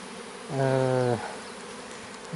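Bees swarming in an overturned trash bin: one close, loud buzz swells and fades in under a second over a low background hum.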